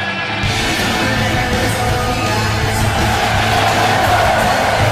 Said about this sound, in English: Crowd is deafening here at the Golden One Center.